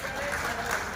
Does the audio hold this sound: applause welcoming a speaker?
yes